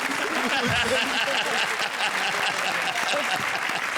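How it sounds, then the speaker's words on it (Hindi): A crowd applauds steadily, a dense wash of clapping that holds at the same level throughout. "So please welcome with a huge round of applause"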